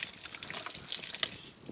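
Water draining from a low-point drain valve on a travel trailer's plumbing lines after de-winterizing, a soft steady trickle and light splashing, fairly close and faint, with no voices.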